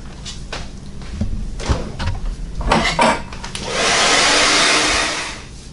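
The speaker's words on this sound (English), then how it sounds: "I'm just going to blow dry it just to make sure, like I said, the glue is all the way dry." A hair dryer blows on a deep wave wig to dry lace glue. Clattering handling noises and knocks come first, then the dryer roars on loud and close for its last two seconds.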